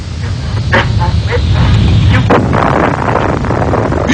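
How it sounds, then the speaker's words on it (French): An atomic bomb test explosion, heard as a loud, sustained low roar with rough crackling bursts rolling through it, steady from start to finish with no voices. "Mais l'explosion à laquelle vous allez assister, elle, est bien réelle."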